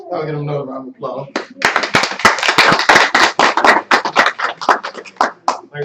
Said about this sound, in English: I'll get another round of applause.